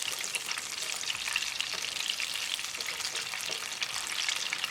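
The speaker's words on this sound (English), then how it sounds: "that's how it's easy and simple to deep fry your fish pakoda" Fish pakora pieces deep frying in hot oil, a constant fine crackling bubble at moderate level, steady and without voices.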